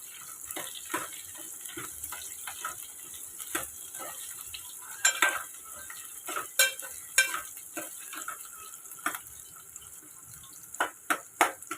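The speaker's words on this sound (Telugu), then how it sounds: "తర్వాత ఉల్లిగడ్డలు వేసుకుంటున్నా ఉల్లిగడ్డలు పొడుగు అయితే కట్ చేసుకొని వేసుకోవాలి ఇంకా కలుపుకోవాలి" Long, thinly sliced onions with curry leaves fry in a pan and are stirred, producing a soft constant sizzle broken by irregular spoon scrapes and clatters that grow sharper later on.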